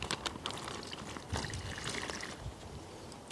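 Fresh warm water, about 300 millilitres, pours into a bag holding vinegar, giving a soft trickling splash close by over a few seconds with no talking.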